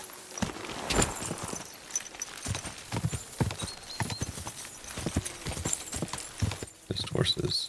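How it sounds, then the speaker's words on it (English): Horse hooves clip-clop in a steady, uneven rhythm of close, sharp strikes in the medieval game Kingdom Come: Deliverance II, with a faint neigh and background ambience mixed in. "Just horses."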